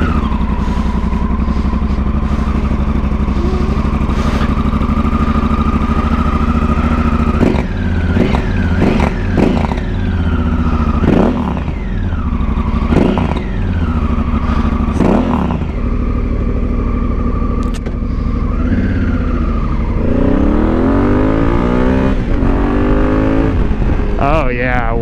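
A motorcycle fitted with a LeoVince exhaust, one of two cheap bikes, idles loudly and steadily, then takes a series of sharp throttle blips and revs that rise and fall, close by, with people talking over it.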